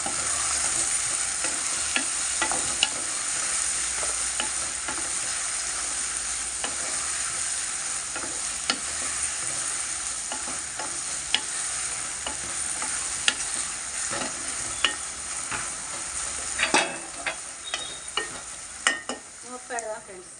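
Eggplant with turmeric and salt stirred in a frying pan for a sesame-powder fry, a steady sizzle broken by the scrape and tap of a spatula, with a burst of quicker clatter near the end.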